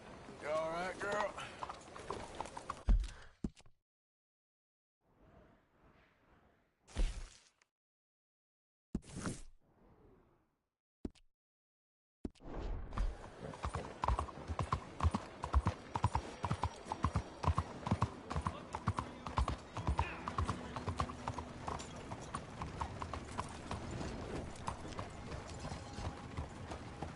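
Horse hooves clip-clop steadily over the ground in the video game Red Dead Redemption 2, preceded by brief scattered sounds and near-silence, with faint voices in the background.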